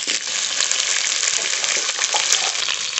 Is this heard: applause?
no